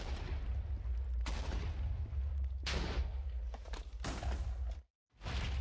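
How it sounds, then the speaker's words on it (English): TNT explosions in Minecraft on a tree farm built with redstone, a dense run of overlapping booms and rumbling blasts with several sharp new detonations, loud and continuous, cutting to silence briefly near the end. "the explosions will be at the same level"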